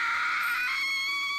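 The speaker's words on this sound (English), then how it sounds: "Oh, that's a nasty scream!" A single shrill, sustained scream from the Higurashi visual novel rings out loud and piercing, holding a strained tone for over a second before tapering off.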